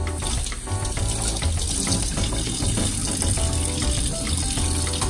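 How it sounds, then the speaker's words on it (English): A kitchen tap running steadily for handwashing before baking maple cookies: loud, close, continuous splashing water pouring into a sink throughout. "Always make sure to wash your hands."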